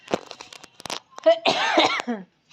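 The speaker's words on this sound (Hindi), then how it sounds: "खांसी हो रही है बहुत ज़्यादा" A few harsh coughs mixed with throat sounds, close up, followed by a short stretch of speech.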